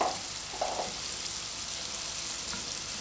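Pear slices browning in a frying pan for a vanilla pear and pork medallion dish, giving a soft, steady sizzle with a few faint clinks, quiet and close, without speech.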